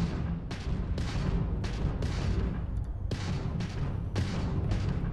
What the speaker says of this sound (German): Jetzt kann ich selbst schießen, wie ich will.